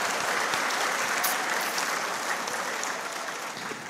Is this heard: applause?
yes